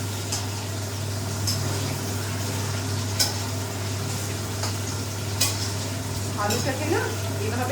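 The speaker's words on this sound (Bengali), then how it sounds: "আলুটাকে না এভাবে নেড়ে উল্টে পাল্টে লাল করে ভেজে নিতে হবে" Potatoes being stirred and fried in a pan for chicken kosa, with steady sizzling under occasional scrapes and clinks of a utensil against the pan, close and continuous throughout.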